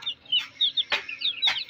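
Several chickens cluck in quick, soft bursts close by, Aseel hens and chicks milling together on a rooftop, their short calls repeating irregularly in a quiet setting.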